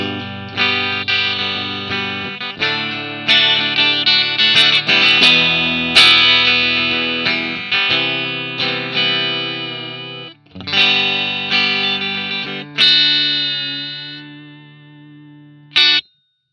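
A clean-to-crunchy Fender Jaguar electric guitar with a bright, thin single-coil tone plays a run of chords and notes, ringing out alone before a final short strum.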